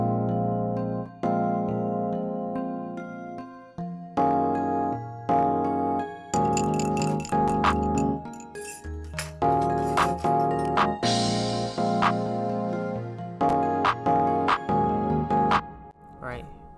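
Trap intro built in FL Studio, a dense melodic mix of sustained harmonic chords and bright hits whose pitch is automated to rise, with loud, steady passages broken by short gaps.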